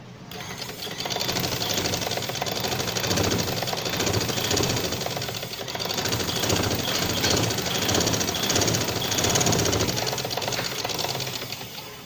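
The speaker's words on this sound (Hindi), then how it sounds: "इसको इकट्ठा करने के बाद ये हम सिलाई लगाएंगे।" A sewing machine stitches gathered fabric sleeve pieces together in one long, steady, close-up run, its rapid needle chatter and motor hum continuous and even before easing off at the end.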